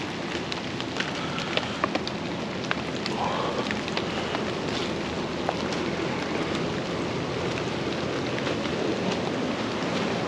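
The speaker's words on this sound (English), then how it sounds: "A little bit rainy out here" Steady rain falls outdoors during a car photoshoot with a 1988 Nissan Cedric Gran Turismo SV, a continuous broadband hiss of drops with scattered sharper patters, alone without talk.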